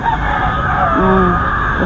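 A gamefowl rooster crows loudly and close at a fowl farm in San Jose del Monte, Bulacan, one drawn-out call over steady background noise.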